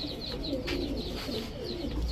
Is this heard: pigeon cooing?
yes